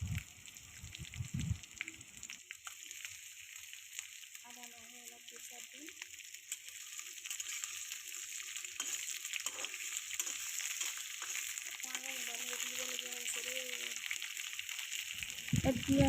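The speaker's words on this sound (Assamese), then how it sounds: "পিঁয়াজখিনি ৰঙচুৱাকৈ ভাজি লৈ এতিয়া ইয়াত দি দিম কাটি লোৱা আলু" Cut potatoes frying with browned onions make a soft, faint sizzle and occasional stirring clatter, with a voice speaking briefly in places.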